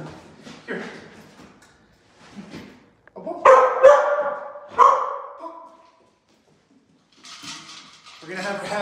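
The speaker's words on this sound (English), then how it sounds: "We're gonna have her have one time where she just barks at me and then gets a reward" A dog barks in several loud, sharp bursts near the microphone, separated by pauses, while a person speaks in between and before the barks.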